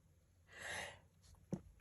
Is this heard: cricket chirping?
no